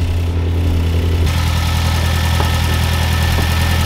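A Mazdaspeed3 engine idles steadily after a new turbo install, a loud, close, continuous rumble with an even low-pitched hum and no voices.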